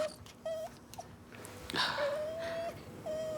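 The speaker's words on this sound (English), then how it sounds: "Why is he whimpering?" A dog whimpers in a small indoor room, giving several thin, high, drawn-out whines with short pauses between them, close and fairly soft, with faint movement behind.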